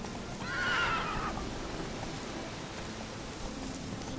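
A horse in The Witcher 3 video game gives a clear, fairly loud whinny near the start, followed by a steady hiss of in-game rain with faint hoof clatter beneath.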